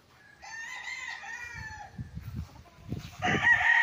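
Chickens and a rooster in farm coops on a rural lot in Liliw, Laguna, with a rooster crowing loudly near the start and clucking fowl close by, the crow rising again at the end.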